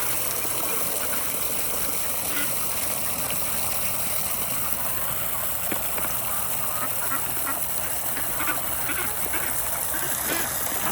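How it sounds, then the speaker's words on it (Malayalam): Ducks swimming in a backyard water tub, a steady dense wash of splashing and paddling with occasional quacks, continuous and close throughout with no talk. "ഇപ്പോൾ താറാവുകൾ വന്ന് മൊത്തത്തിൽ അങ്ങ് നീന്തലും പരിപാടിയായിട്ട്"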